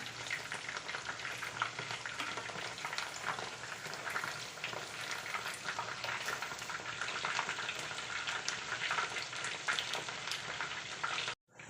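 Soya chunks for chilli soya frying in hot oil in a pan, a dense, continuous crackling sizzle with small scraping sounds as they are turned, ending abruptly.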